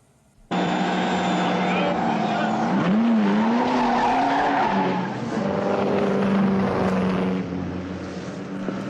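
Speed cars racing at the Gold Star Handicap, the final meeting of the season, with a loud, sustained engine roar and squealing tires that swells and shifts pitch as the cars pass; an announcer-style voice and music may sit underneath.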